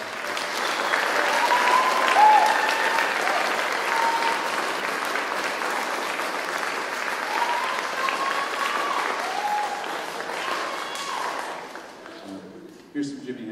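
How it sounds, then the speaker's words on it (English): Broad audience applause and cheering at a Hermiston High School band and guitar concert, a sustained wash of clapping with scattered whoops that fades out toward the end. "can we give a big round of applause for the guitar?"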